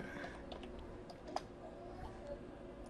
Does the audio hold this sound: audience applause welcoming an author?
no